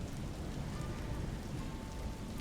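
Heavy rain pours steadily in a dense, even hiss with a low rumbling undertone, loud and unbroken throughout with no voices.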